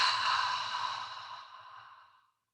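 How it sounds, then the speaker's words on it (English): A long, breathy mouth exhale as if fogging a mirror, done during a guided meditation breathing exercise; a single steady rush of air that is strong at first and fades out over about two seconds. "exhale like fogging a mirror"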